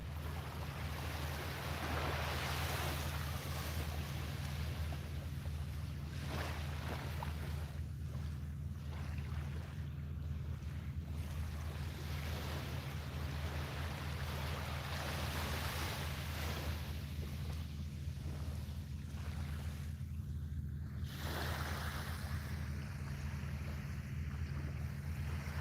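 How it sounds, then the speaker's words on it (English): Ocean waves roll onto a beach at dusk, a continuous rushing surf that swells and recedes in slow surges, mixed with constant wind buffeting against the microphone. "Waves rolling in"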